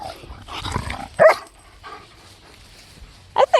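A German shepherd puppy gives a couple of short, sharp yips or barks with odd whiny squeals between them, close and loud, and a person talks briefly at the start.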